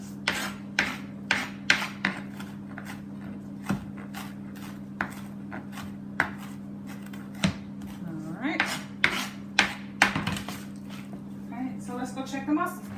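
Rough chopping of parsley with a knife on a board, a run of sharp, irregular chops and scraping taps over a steady low hum, with a voice talking between strokes.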